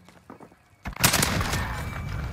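A 9mm M4 submachine gun fires in a video game, a sudden burst of rapid continuous shots after a quiet moment of small clicks, loud and sustained to the end.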